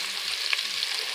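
Sliced onion hits hot oil in a frying pan already holding ginger and garlic, giving a steady, close, broadband sizzle with a faint clink partway through; no one speaks.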